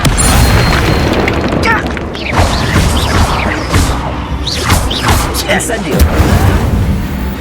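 In the Hogwarts Legacy video game, an Incendio fire spell goes off as a loud booming blast followed by crackling, rushing fire effects, with game voices speaking over it.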